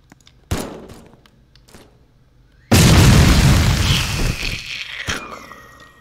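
Explosions in a video game while wrecking a neighbourhood: a few sharp booms, then one huge loud blast with a long rumbling decay and a final crack.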